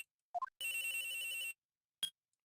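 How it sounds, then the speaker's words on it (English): A cell phone in Phoenix Wright rings: a few quick rising chirps, then a sustained electronic ring lasting about a second, and a final short blip. It is clean and close, with silence between. "At around 10:30 I received a call on my cell phone."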